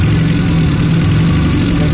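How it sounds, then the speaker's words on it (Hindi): A Chevrolet Spark engine idles steadily with a low, continuous rumble that runs throughout, carrying an uneven, slightly irregular pulse consistent with a misfire, close and fairly loud with no talking. "इंजन चल रहा है, देख रहे हैं"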